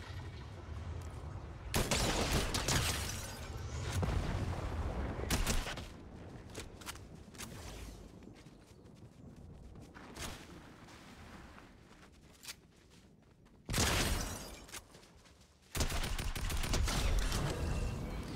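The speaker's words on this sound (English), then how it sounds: "Yep, he's shooting too." Video game firefight with enemies shooting: dense bursts of gunfire crackle in repeated volleys, some loud and close, others thinner and more distant, with short lulls in between.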